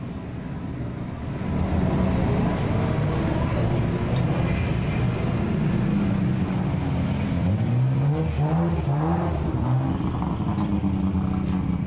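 HKS Nissan Skyline GT-R R34 drag car, a 9-second car with about 1200 horsepower and HKS 3240 turbos, running loud and steady at close range with rising revs, no talk over it.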